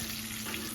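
Brined chicken wings frying in a skillet of hot oil give off a brief, even, dense hiss with no break.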